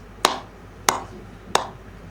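Three sharp hand claps ring out at an even pace while roti is being made, each a crisp close slap with a short tail in a quiet room.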